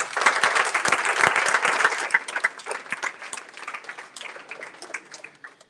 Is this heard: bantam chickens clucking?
no